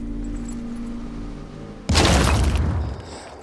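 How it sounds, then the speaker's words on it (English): A Boom Blast explodes in the tactical video game Phoenix Point, one abrupt loud burst after a low hum, followed by a crackling roar that fades over about a second. "you're gonna do another Boom Blast and take out both of those"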